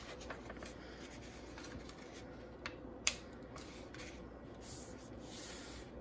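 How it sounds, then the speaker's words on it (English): A fingernail creases a sheet of paper into a fold while making a zine, producing soft faint rubbing and scraping strokes close up with one small crisp snap midway and nobody speaking. "Sometimes I like to use my fingernail to make a clean fold."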